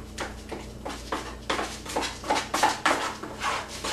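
Joint compound being stirred with a 3-inch blade in a pan: a steady run of rhythmic scraping, slapping strokes, close and moderately loud, about two per second, with no talk.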